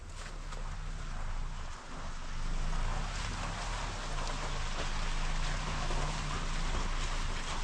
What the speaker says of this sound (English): it's basically been like raining for 4 days straight now